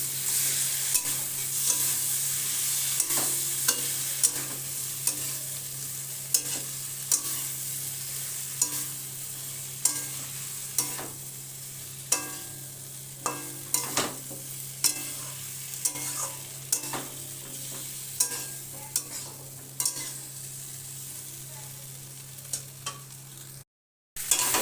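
Potato and cauliflower sautéed with salt, turmeric and spices in a pan over low heat, a constant sizzle under regular scraping and tapping of a spatula stirring the vegetables, followed by a brief silence near the end.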